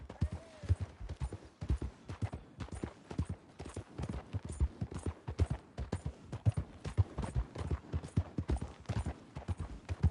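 Rapid, rhythmic clip-clop of horse hooves trotting steadily in the video game Red Dead Redemption 2, close and clear, continuing without pause for the whole stretch.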